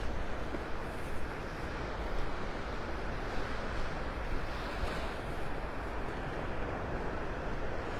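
Ocean surf at Delnor-Wiggins beach in North Naples, Florida washes steadily along the shore, a continuous broad roar mixed with wind noise buffeting the microphone.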